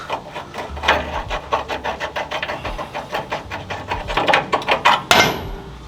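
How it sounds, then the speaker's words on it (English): Lower control arm bolts being worked out on a Land Cruiser 80 Series rear suspension, a rapid ratcheting rattle of metal on metal in quick pulses, close, ending with a sharp clank. "So now that the lower control arm bolts are loose, we are just going to take those out."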